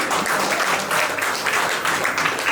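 An audience at an RCM seminar in Powai applauding to welcome guests, dense steady clapping from many hands filling the room from start to finish.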